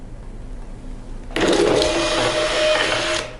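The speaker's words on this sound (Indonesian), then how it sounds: "kita akan tes print 1 kali ini." A Kassen DT640 label printer printing a 100 x 100 mm test label in peeler mode kicks in suddenly with a loud mechanical whir and buzz, runs steadily for about two seconds, then winds down after a quiet room-tone lead-in.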